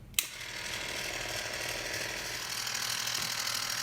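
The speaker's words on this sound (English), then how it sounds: "Alright, we'll churn this and see how it goes." A pint-size ice cream maker churns chilled vanilla ice cream base, giving a steady close mechanical whirring and ratcheting grind after a sharp click at the start, with no talking.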